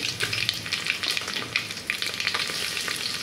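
Cumin, asafoetida, curry leaves and dried red chilies fry in hot oil with a loud, busy sizzle full of quick pops and spatters, and no voice is heard.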